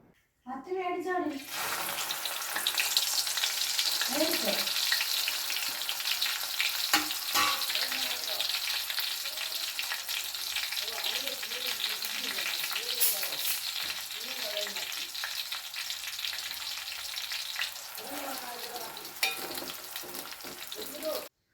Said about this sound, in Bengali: ততক্ষণ নাড়াচাড়া করবেন যতক্ষণ না ফুলগুলো একদম কালো হয়ে যায়